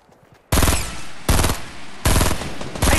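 Four loud bursts of automatic gunfire in a first-person shooter game, each abrupt and close, coming in a steady rhythm of about one burst every three-quarters of a second.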